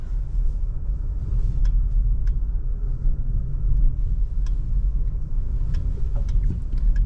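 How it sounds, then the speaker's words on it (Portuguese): A new Volkswagen three-cylinder turbo car with a five-speed manual gearbox drives slowly, giving a low, steady cabin rumble with a faint engine hum and occasional light ticks and clicks. "E vamos dar uma voltinha pra gente ver o que que esse carro faz."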